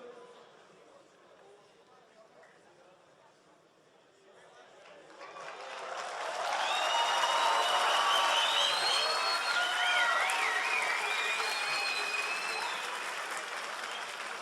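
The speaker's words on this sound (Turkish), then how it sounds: "Alkışlarınız kesilmesin çünkü sırada bir diğer cosplay'imiz var." At a League of Legends cosplay contest, quiet crowd murmur swells into loud applause and cheering from around five seconds, with whistles and shouts rising over sustained clapping that holds strong to the end.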